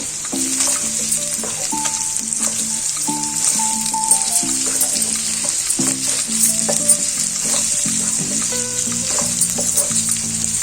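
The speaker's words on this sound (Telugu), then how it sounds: "అంతా ఒకసారి బాగా కలుపుకోవాలండి" Chicken fry sizzling steadily in a pan while garam masala and chili powder are stirred through, with repeated scraping strokes of a spoon over a constant loud hiss of frying oil.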